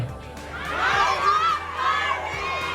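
Crowd of fans at a première night shouts and cheers in a loud, sustained roar that swells and slightly ebbs, with high excited voices blending together throughout.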